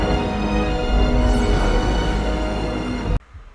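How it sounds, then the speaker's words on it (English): Shimmering, vibrating glassy tones inside a dense Dragon Age trailer soundscape, layered over deep rumbling music at steady loudness, then cutting off abruptly into near silence for the final moment. "So hopefully you paid attention to these vibrating glassy sounds."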